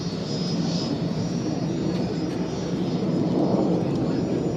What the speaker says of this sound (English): Sounds like a fighter jet